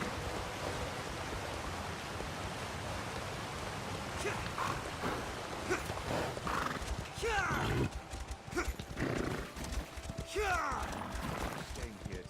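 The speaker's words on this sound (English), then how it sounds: "Luckily, our horse can traverse waterfalls pretty easily." A horse in a video game clip-clops across terrain near a rushing waterfall, with steady hissing water noise beneath repeated hoofbeats and a few rising neighs and whinnies later on.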